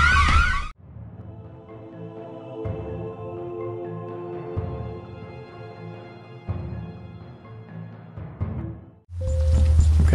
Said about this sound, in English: reacting to the alarm going off